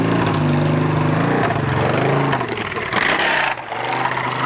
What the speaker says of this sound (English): we got a little exhaust from the Harley that just came back down the long side of the hill